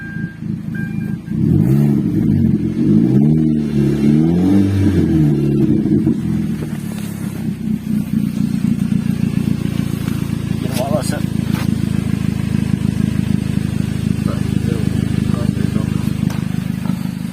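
A loud, rough car engine with a damaged flexible exhaust pipe rumbles close by, revving unevenly at first before settling into a steady, rattling idle, with a voice talking over it.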